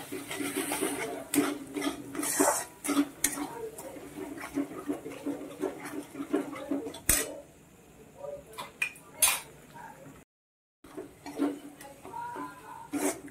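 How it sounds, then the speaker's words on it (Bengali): A spatula scrapes and clatters against a pan while spice paste with Kashmiri chilli powder is stirred and fried, giving irregular metallic knocks and scrapes, close and fairly quiet, with a short silent gap. "এবার মশলাটা খুব ভালোভাবে কষিয়ে নেব।"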